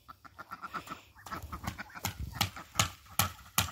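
Farmyard ducks quacking in a rapid, irregular series of calls, close and fairly loud, with several birds overlapping and occasional sharper honks standing out.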